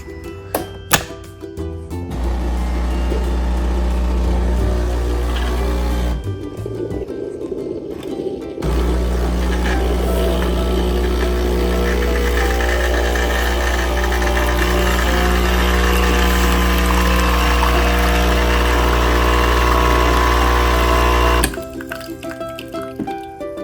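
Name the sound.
CASABREWS espresso machine pump running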